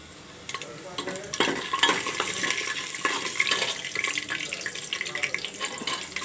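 Mustard seeds and cumin fry in hot oil in a pan for tomato rice, a crackling, spattering sizzle that starts quietly and builds into dense popping with scraping stirs throughout.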